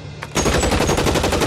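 Rapid automatic gunfire in the L.A. Noire video game, a loud close burst of evenly spaced shots firing in quick succession after a brief quiet start.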